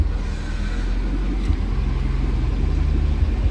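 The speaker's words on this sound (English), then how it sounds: "That's the power steering pump. It makes that sound when you turn it too far." A Corvette engine idles close by with a low droning whine from the power steering pump at full lock, stepping in pitch a couple of times as the steering load changes.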